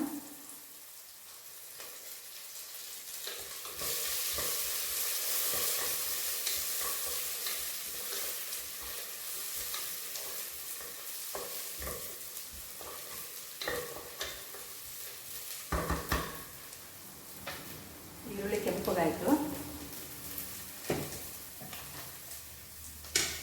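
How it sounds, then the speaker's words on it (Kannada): Onion and curry leaves fry in a pan for a millet dal khichdi, a steady loud sizzle with intermittent stirring scrapes and clinks, no voices. "ಈರುಳ್ಳಿ ಕರಿಬೇವಿನ ಸೊಪ್ಪು ಹಾಕ್ತಾ ಇದ್ದೀನಿ ಸ್ವಲ್ಪ"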